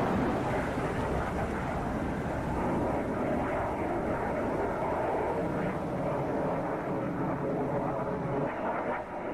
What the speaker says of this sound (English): Con, Lyco, launching aircraft.